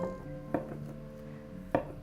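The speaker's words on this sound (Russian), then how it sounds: "нарезаю сыр кубиками." A knife cuts a block of feta cheese into cubes, giving two soft, distinct chops against a board about a second apart in a quiet kitchen.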